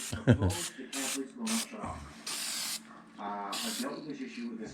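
Aerosol spray-paint cans used on car rust repair, several short hissing bursts of varying length, close by, with someone talking between and over the sprays.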